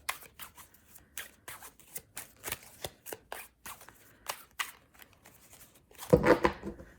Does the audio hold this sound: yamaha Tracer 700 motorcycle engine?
no